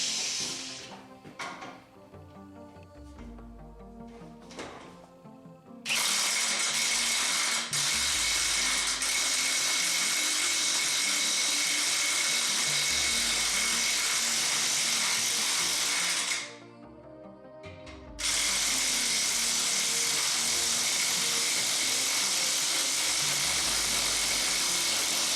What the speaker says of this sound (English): bought a corded half-inch Milwaukee impact wrench